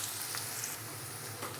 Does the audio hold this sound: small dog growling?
no